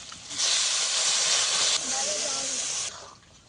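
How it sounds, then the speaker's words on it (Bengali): Mustard paste mixed in water is poured into a pan of frying fish roe, setting off a loud, hissing sizzle that bursts up suddenly, holds for a couple of seconds, then eases and fades. "এখানে সর্ষে বাটাটা জলে গুলিয়ে নিয়েছি, দিয়ে দেবো সর্ষে বাটা জল।"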